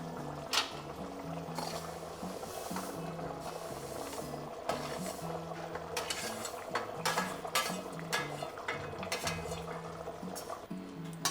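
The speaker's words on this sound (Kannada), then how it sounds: "ಈಗ ಅಕ್ಕಿನ ಹಾಕ್ಬಿಡೋಣ" Roasted rice tipped into a pot of boiling coconut water, with scattered clinks and scraping of utensils against metal amid soft pouring and stirring.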